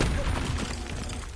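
Confringo spell blast in Hogwarts Legacy: a dense, noisy burst of crackling impact energy fills the short moment, ending with a sharper hit, fairly loud and close.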